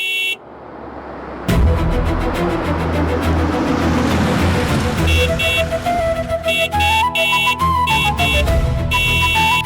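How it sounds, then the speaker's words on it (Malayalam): A car horn honks repeatedly outside a house in a scene from the Malayalam TV serial Chempaneer Poovu, several insistent blasts in an uneven rhythm over a busy background, loud and fairly near. "എന്തിനാ ഇങ്ങനെ ഹോൺ അടിക്കുന്നത്?"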